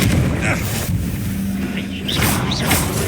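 A Confringo spell blast in Hogwarts Legacy bursts as a short booming impact with a whooshing tail, set amid dense game effects and background noise, followed by further magical crackles.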